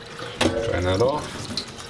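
Water drains off fermented, harvested coffee beans in a short pouring and splashing gush that swells and then trickles away, close by, with a brief voice overlapping.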